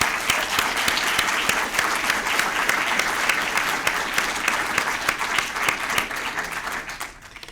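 Audience applause at the Burlington Book Festival, a dense, steady round of many hands clapping that holds loud for about seven seconds before tapering off at the end.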